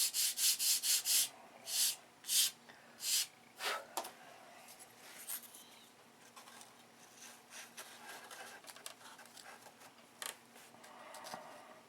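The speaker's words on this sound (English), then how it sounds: "So we'll take the sanding block. Need to sand a little bit off the back half." Rhythmic back-and-forth strokes of a sanding block rubbing across wood, a series of distinct close scrapes at the start giving way to quieter, irregular rubbing.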